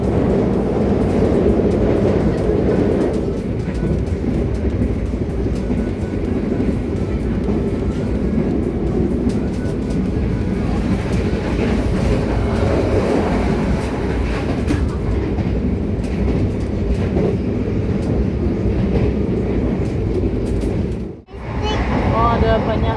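Steady rumbling interior noise of the moving Sancaka passenger train in Indonesia, with mild steel carriages, constant and loud throughout, with a brief dip near the end.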